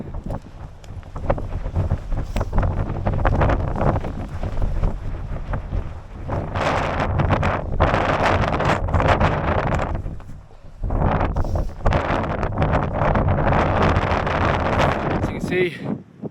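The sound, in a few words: cold wind blowing on a mountain climb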